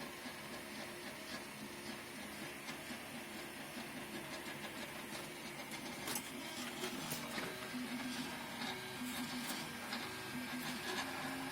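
A 3D printer at work gives off a faint mechanical whir with soft stepping ticks and clicks, some sharper taps near the end, with no talk over it.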